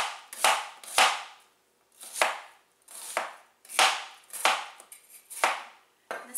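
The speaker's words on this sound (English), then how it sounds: "You can slice it any which way." A knife slices through an onion on a cutting board, about nine crisp chopping strokes in an irregular rhythm, close and clear with brief pauses between cuts.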